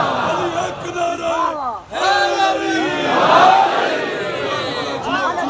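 A large audience at a Muharram majlis in Dhobi Ghat, Faisalabad, chants a religious slogan in loud, rising unison shouts. The crowd answers in repeated waves, briefly dropping away before swelling again with massed voices.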